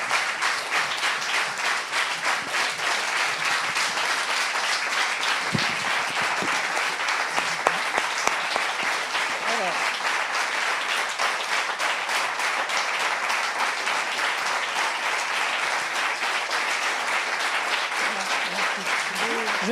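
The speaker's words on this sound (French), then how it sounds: "Je ne sais pas faire cesser les applaudissements" Sustained audience applause at an opening address, a dense steady wash of clapping throughout with a few louder individual claps standing out near the middle.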